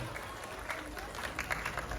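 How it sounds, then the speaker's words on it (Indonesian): Faint, steady audience applause at an Islamic religious talk in Yogyakarta, lasting about two seconds, with voices mixed in over the clapping. "Tepuk tangan."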